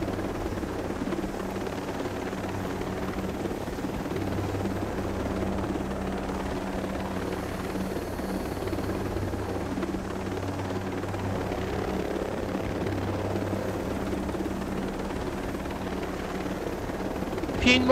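A video game helicopter drones steadily and loudly throughout with a constant rotor roar, and no talk over it.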